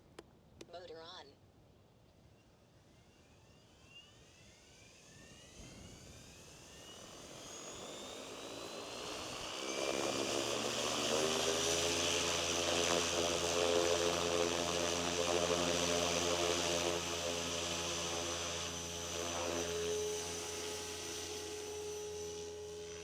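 An SAB Goblin Raw 700 RC helicopter spools up from a quiet start into a rising electric motor whine and steady rotor drone, holding loud and continuous in flight.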